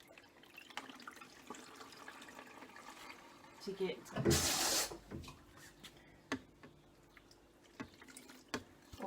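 Water poured into a washing machine's detergent drawer gives a brief, rushing splash and trickle, with dripping around it, while a person talks quietly at home.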